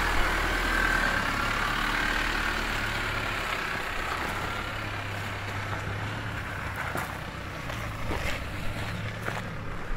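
A Chevrolet Colorado crawling off-road on steady throttle in Chiltern Mt Pilot National Park, its engine a low, even drone held close and constant throughout, with faint crunching from the track.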